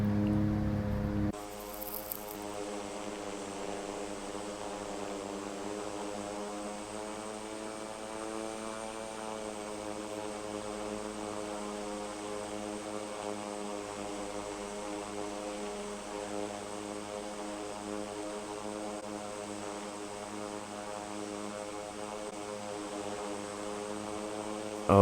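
Q-400 turboprop airliner climbing in Infinite Flight, a steady close cockpit drone of propellers and engines with a constant tonal hum, continuous and even for the whole stretch.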